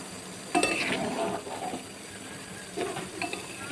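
Ghee being stirred in a pot at home, giving soft metallic clinks and scraping of a spoon against the pan, a sharper clink near the start and another near the end, close and fairly quiet.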